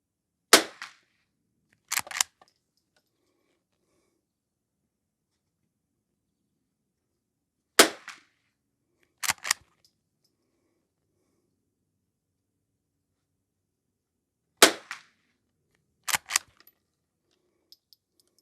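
Six sharp gunshots from a Henry H001 lever action rifle firing Aguila ammunition, grouped in three widely spaced pairs with silent gaps and a faint echo tail after each crack.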